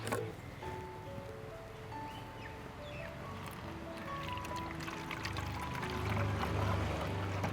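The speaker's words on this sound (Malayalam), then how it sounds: "അതിന് മുമ്പായിട്ട് നമുക്ക് കുറച്ച് വെള്ളം ഒഴിക്കാവേ" Water trickles gently into a bottle while mixing fertilizer for orchids, a soft continuous pouring close to the microphone with faint rustling, no voices present.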